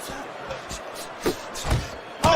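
Two quick punches land in a Fight Night Champion boxing game, a pair of sharp thuds in close succession near the end over a low crowd murmur, with commentary talk running throughout.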